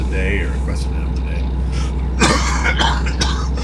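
A man clears his throat and coughs a few times while recording commentary for a truck driving game, the rough bursts close to the microphone over a low steady hum.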